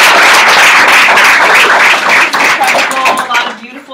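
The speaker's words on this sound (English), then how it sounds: "Clap it up for yourself for being here." An audience at a training event claps loudly as a dense wash of hands, while a voice talks over it as the clapping thins toward the end.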